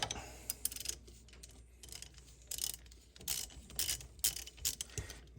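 A wrench works loose the cam chain tensioner bolt on a Honda XR200 engine, giving a series of close, irregular ratcheting clicks and metallic scrapes at a moderate level, with no talking.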